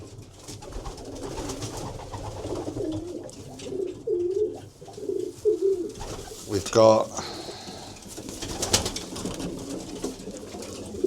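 Racing pigeons in a loft coo in soft, repeated low calls, with a sharper burst near the middle, while a person talks over them throughout.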